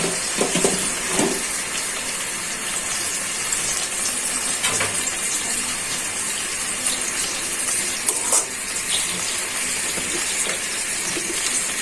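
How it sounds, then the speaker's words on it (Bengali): Tiger prawns frying with chopped onion and salt in hot oil in a kadai give off a steady, loud, close sizzle and hiss throughout, with a few brief louder spatters. "এখন চিংড়ি মাছটা পেঁয়াজটা স্বাদ মতো লবণ দিয়ে ভাজা নেই, ভালো করে মাছটা ভাজা হয়ে যাবে।"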